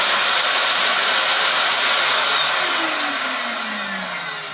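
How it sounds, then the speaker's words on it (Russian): A repaired vacuum cleaner that had been humming loudly is switched on and runs with a loud, steady broadband whir. The whir eases slightly toward the end as a falling tone glides beneath it. No one speaks. "вот мы собрали наш пылесос, скрутили все на место и включаем его."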